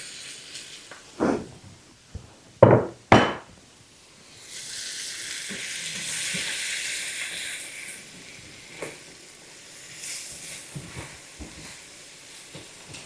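Peppers and onions fry in melted butter in a pan, a steady soft sizzle rising after a few sharp knocks and clatters from placing them, moderately quiet and continuous with small pops.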